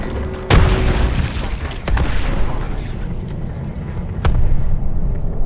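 Frag grenades explode in Apex Legends, several sharp, loud booms spaced a second or two apart, each with a rumbling tail, over ongoing game noise.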